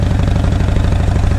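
A motorcycle engine running close by on a sunny day, a loud, rapid, even pulsing throb with a slight mechanical clatter, steady throughout and without talk.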